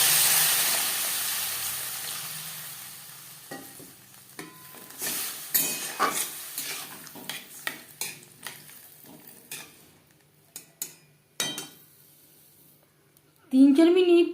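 Raw mango, already fried with salt and turmeric for a sweet chutney, gets water poured over it in the pan: scattered utensil clinks and scrapes, then a sudden loud sizzling burst near the end.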